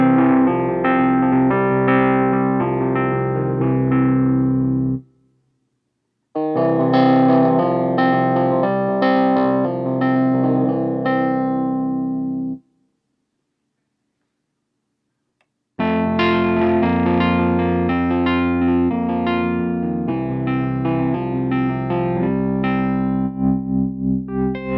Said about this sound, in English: The PX-5S also features classic reed electric pianos. And using the DSP effects on the PX-5S, you have choices of different speaker and amplifier combinations.